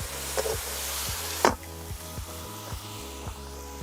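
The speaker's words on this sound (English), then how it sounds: "We're going to create some steam and steam all of those buns and patties together." Smash burger patties and buns steaming and sizzling together on a Kadai live-fire bowl, a steady hiss with a sharper burst partway through and faint clatter, no talking.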